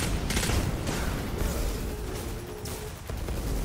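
Rapid bursts of Destiny 2 gunfire crackle continuously, loud and dense, with a few heavier booming shots mixed in.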